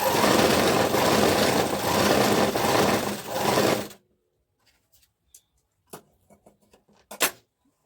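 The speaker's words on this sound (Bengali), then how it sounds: "এভাবে মুখোমুখি হাফ ইঞ্চির মধ্যে সেলাই করে দিতে হবে।" Sewing machine stitching a blouse seam, running steadily and loudly for about four seconds before stopping abruptly, followed by quiet handling clicks and small taps.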